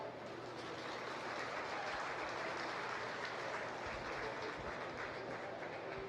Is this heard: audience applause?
yes